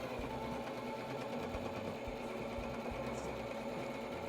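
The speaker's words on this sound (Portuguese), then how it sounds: "Eu venho com a primeira costura aqui." Sewing machine stitching the first seam of a fabric bag, a steady continuous mechanical whir that runs through the whole stretch at an even, moderate level with no talk over it.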